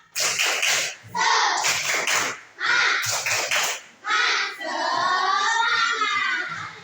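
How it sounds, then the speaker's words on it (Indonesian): Schoolchildren in a fourth-grade classroom clap a rhythmic spirit cheer in quick patterned bursts, pausing between phrases, with young voices joining in near the end. "Sekali lagi, tepuk semangat."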